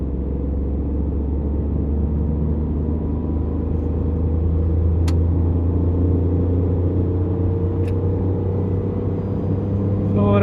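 A Tata Tiago iCNG AMT accelerates hard, heard from inside as a steady low engine drone and road rumble that holds evenly throughout, with a couple of faint clicks.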